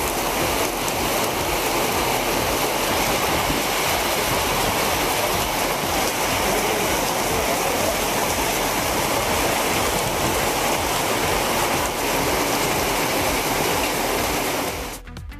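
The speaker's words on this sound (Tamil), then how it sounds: "சீர்காழி, கொள்ளிடம், வைத்தீஸ்வரன் கோவில், பூம்புகார் உள்ளிட்ட பகுதிகளில் 1 மணி நேரம் கனமழை பெய்தது." Heavy rain pouring down in a thunderstorm over coastal villages, a dense continuous loud hiss and patter that stays steady before cutting off abruptly at the end.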